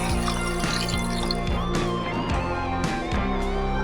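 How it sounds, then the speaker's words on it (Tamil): Water being poured into a pan to make sugar syrup for Bengali rasgulla, a steady close splashing and trickling fill with a few louder gurgles, no talking. "நான் 2 கப்பு தண்ணி வார்த்து வச்சுக்கிறேன்."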